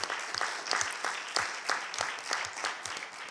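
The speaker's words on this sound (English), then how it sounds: "entertain me with a round of applause for President Smith and Southern." A crowd applauding steadily, dense clapping that rises and falls in waves, with a few louder claps standing out near the front.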